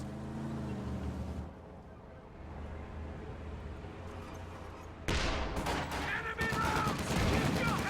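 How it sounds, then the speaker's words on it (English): An infantry support gun fires in a strategy video game. Quiet battle ambience and a low rumble give way to a sudden loud burst of shots and impacts near the end. "Nice hit from the infantry support gun in that engagement"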